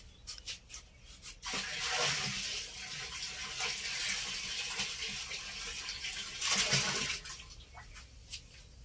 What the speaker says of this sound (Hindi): और 20 लीटर ये पानी हमने जो बकरी की मींगनी की खाद वाला है वो डाल रहे हैं इसके